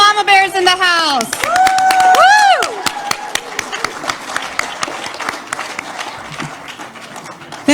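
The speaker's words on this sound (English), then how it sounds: "can I have a round of applause for all the mama bears in the house?" A school-themed gathering honoring moms erupts in loud whoops and whistled cheers, then dense clapping that carries on steadily.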